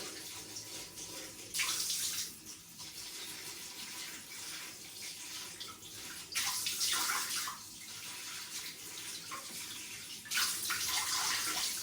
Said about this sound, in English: So just swirl it under the cold tap